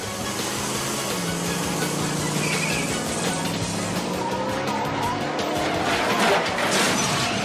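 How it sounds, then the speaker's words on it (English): Cars race through an action movie chase, engines roaring and tires skidding and squealing in a dense, continuous wash of loud noise with no pauses. "we get a spectacular little car chase in this movie"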